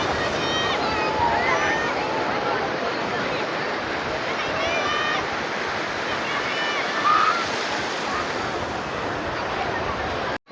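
Sea surf rushes continuously and loudly at a beach during a Ganpati idol immersion. Voices from the crowd mix into the steady wash of water.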